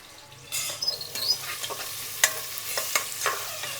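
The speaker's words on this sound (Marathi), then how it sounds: "कांदा पण आहे ना गोल्डन ब्राऊन रंगावर परतवून घेते." Onions frying to golden brown for chicken biryani: a steady close sizzle with occasional stirring scrapes and taps in the pan.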